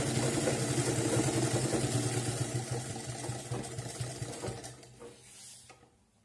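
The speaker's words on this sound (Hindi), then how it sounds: "थोड़ा सा खींच के इसमें यहाँ तक सिलाई लगा देनी है निशान तक।" A sewing machine runs steadily while stitching a man's shirt being converted into a shirt dress, its close, even motor whir and needle chatter continuing for several seconds before slowing and stopping near the end.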